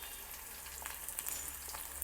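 Lentils crackling and sizzling in hot tempering oil for a South Indian tamarind rice dish, a steady close fry with scattered small pops and no talking.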